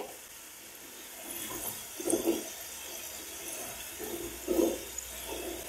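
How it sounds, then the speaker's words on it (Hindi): Potato fries sizzle in hot deep-frying oil with a soft, steady hiss that swells into two louder bubbling surges, fairly faint overall. "चार से पांच मिनट फ्राई कर लिया है ये आप देख सकते हैं बहुत ही क्रिस्पी तैयार हो गए हैं"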